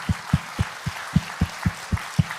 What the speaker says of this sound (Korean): 허락하시면 이분들 다 들어가실 때까지 우리 한번 박수 한번.